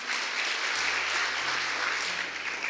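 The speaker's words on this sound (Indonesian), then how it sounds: "Tepuk tangan dulu buat Tuhan Yesus." A church congregation applauds in praise of Jesus, a steady, dense wash of many hands clapping together for the full stretch, close and loud, with no voices rising above it.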